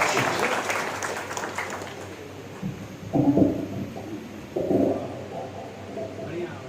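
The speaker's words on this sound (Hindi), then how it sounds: "एक बार आप लोग भी उन्हें अपनी तालियों से आवाज दीजिएगा" Audience applause at a Hindi poetry recitation and lecture event, a fairly faint patter of clapping through the first seconds before fading, followed by a few louder bursts of low sound near the end.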